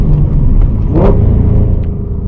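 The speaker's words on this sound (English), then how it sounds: "the downshift, obviously you got to know like how much gas you got to blip to" A car engine, fitted with an aftermarket short shifter, gives a quick throttle blip during a downshift: a loud, close rumble that briefly swells in a short rev, then settles back to idle-like drone.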